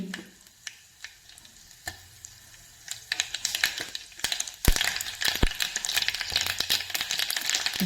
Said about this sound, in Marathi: आता तेल तापलेलं आहे तर तेलात मी घालते हिंग त्यानंतर मोहरी